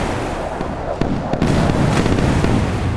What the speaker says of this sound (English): See cruise missile hits.